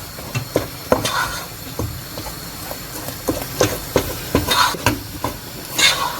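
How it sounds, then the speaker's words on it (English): A spoon stirs a pot of oat swallow, scraping and knocking in an uneven rhythm of close, fairly loud strokes with a soft sizzling underneath. "Then stir them, start stirring them"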